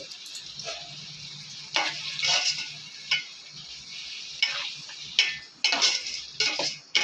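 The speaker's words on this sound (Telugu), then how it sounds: "ఇది చిన్న మంట మీద వేగితే సరిపోతుంది." Bitter gourd onion-chilli fry cooking over a low flame in a pan, soft sizzling under repeated close scraping and stirring clinks of a spoon against the pan, no talk.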